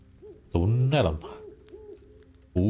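A person imitates an owl with two loud, drawn-out vocal hoots, near and clear, separated by a quieter stretch in which a faint melodic tone keeps wavering, then another hoot begins at the end.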